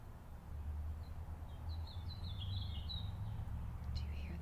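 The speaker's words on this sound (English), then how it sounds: "I'm outside. Do you hear the birds saying tweet," Birds chirping outdoors on a farm, a few faint, thin tweets and a short trill heard at a distance over a low, steady background rumble.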